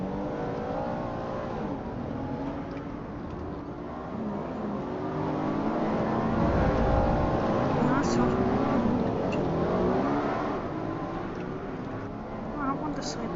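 A truck engine revs continuously in a driving video game, swelling louder midway and then easing, with people talking over the steady motor drone.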